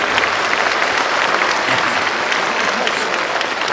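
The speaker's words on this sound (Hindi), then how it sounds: "अच्छा लग रहा हो तो ताली बजा सकते।" Sustained applause from an audience at a live reading event, dense steady clapping throughout with a faint murmur of crowd beneath.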